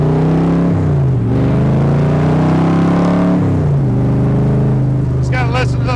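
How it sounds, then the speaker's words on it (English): The 482 cubic inch aluminum FE stroker engine of a 1965 Shelby Cobra Kirkham roars through its exhaust pipes, revving up and dropping back twice in loud, close bursts, with a voice briefly heard near the end. "Just gotta listen to those pipes again."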